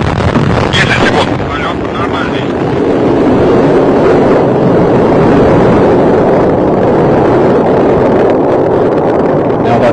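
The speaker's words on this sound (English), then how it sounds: "we have liftoff of an ILS Proton from the Baikonur Cosmodrome in Kazakhstan with the Türksat 4B satellite" An ILS Proton rocket lifting off from the Baikonur Cosmodrome in Kazakhstan carrying the Türksat 4B satellite, a loud, sustained broadband roar with wind buffeting that persists throughout, with a voice faintly heard early on.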